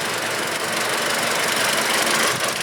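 2010 Toyota Yaris with the VVTi engine running, a steady, even mechanical hum and hiss heard close up under the hood, with no talking.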